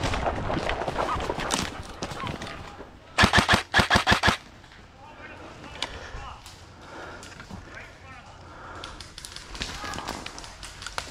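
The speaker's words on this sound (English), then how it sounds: "Shots coming in." Video game gunfire in a multiplayer shooter match: a tight burst of about six sharp rapid shots near the middle, with scattered fainter shots later, under steady talk and game ambience throughout.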